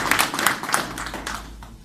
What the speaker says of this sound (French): Applaudissez le bébé.